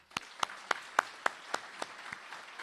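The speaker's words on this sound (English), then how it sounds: "we're going to give one more big round of applause to Attorney General Griffin" A small audience at Attorney General Tim Griffin's press conference with students gives sparse, evenly spaced claps, about ten distinct hand strikes, faint and slightly distant.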